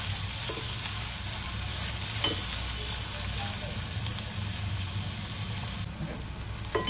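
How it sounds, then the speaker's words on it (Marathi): Chopped onions fry in a pan on the way to turning reddish, giving a continuous close sizzle with a few faint stirring scrapes and a low steady hum underneath. "कांदा लालसर व्हायला आता सुरुवात झाली आहे, मस्त गुलाबीसर झालाय ना"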